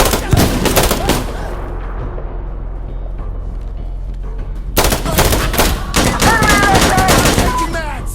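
Dense gunfire in the Insurgency Sandstorm video game, loud rapid automatic bursts that ease briefly before erupting again in heavy overlapping volleys, with shouted voices mixed in.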